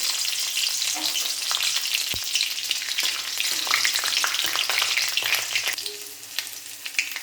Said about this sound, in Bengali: এই তেলের মধ্যে দিয়ে দেব এই কাঁচা ছাড়িয়ে রাখা রসুনগুলি। এগুলোকে ভালো করে ভেজে নেব।